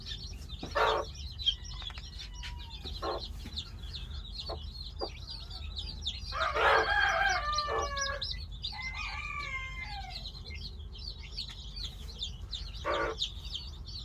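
Farmyard wild fowl chicks peep in high, rapid chirps around their mother hen, with occasional clucks and louder bursts of calling in the middle, fairly near and steady.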